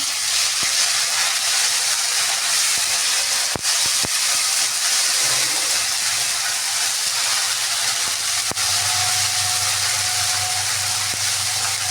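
Cumin and ginger paste sizzling in a hot pan for a vegetarian paneer dish, a loud continuous frying hiss filling the whole stretch, with a few sharp clicks and a low hum joining near the end.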